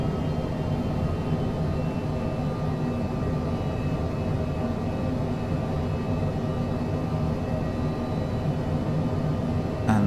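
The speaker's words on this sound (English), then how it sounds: "And now I can hear the engines start to really push" Airliner jet engines build thrust on final approach with full flaps, a steady, broad roar heard from inside the aircraft that holds constant throughout, with no talk.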